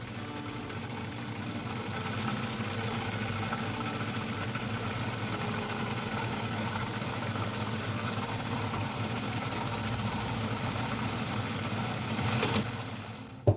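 A food processor whirs steadily while blending guacamole from avocado, a continuous motor drone at even loudness with no voices, ending in a brief clatter.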